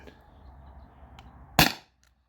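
An air pistol fires a single sharp, loud crack over a chronograph after a quiet moment, then the sound quickly dies away.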